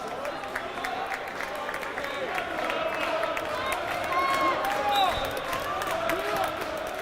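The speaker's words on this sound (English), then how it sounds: "Chancer, crowd applauds." A crowd at a school basketball tournament semifinal claps and cheers in a gym, with sneaker squeaks and ball bounces mixed in beneath continuous play-by-play talk.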